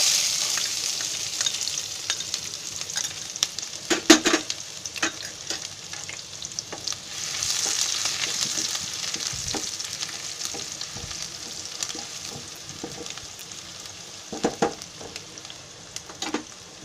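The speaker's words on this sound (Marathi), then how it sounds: "आता त्याच्यामध्ये कांदा टाकते" Onion fries in hot oil in a pan for chicken fried rice, a bright steady sizzle broken by repeated scraping and stirring strokes, close up and with no talking.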